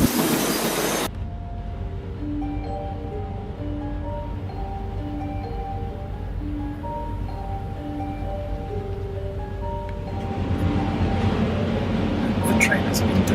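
Train station during an early stop on a journey while a train is held up by a signalling delay: a steady low rumble and hum of waiting rail equipment, with a louder burst at the start and rising noise near the end.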